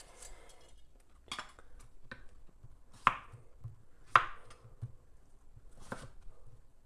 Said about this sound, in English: You just cut it into fourths and then use your chef's knife and cut down the